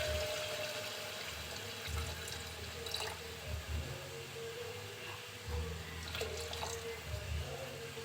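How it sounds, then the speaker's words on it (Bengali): Water poured into a pot of duck curry being cooked in a pressure cooker, a soft continuous splashing trickle heard close by, fairly quiet, with a few faint knocks. "কিছুটা ঝোলের পানি দিয়ে দিচ্ছি।"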